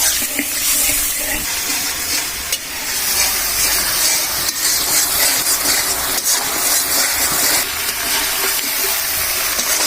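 A turmeric and salt spice mixture fries in a pan, giving a loud, close, unbroken hiss and crackle that holds steady throughout, with no voices.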